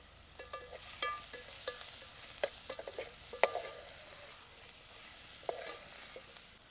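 Spices and finely chopped tomato sautéing in a pan while cooking dal for dal bati, with a quiet sizzle and scattered spoon scrapes and taps against the pan.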